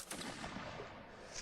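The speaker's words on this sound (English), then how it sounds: "Cannon firing off there." Cannon firing at a regimental historical reenactment event, a single deep boom heard from a distance with its rumble trailing off outdoors.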